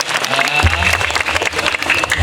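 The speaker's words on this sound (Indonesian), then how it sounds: "tepuk tangan untuk Idrani semeton titiang ring bungkulan" Audience applause at a Balinese Calonarang performance at a village temple in Buleleng, a loud, steady wash of many hands clapping close by for about two seconds.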